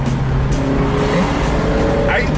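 A new car, called a Farghini, pulling away with its engine loud and close, a continuous drone throughout with faint tire noise, under occasional speech.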